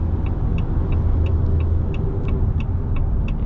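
A 2026 Ram 5.7L Hemi V8 engine revs, rumbling deep and loud up close, its steady low growl overlaid with faint rhythmic ticking.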